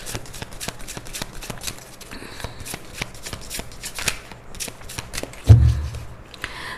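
Tarot cards are shuffled close by, a dense run of quick riffling flicks and soft slaps in steady rhythm with a brief louder thump near the end, no talking.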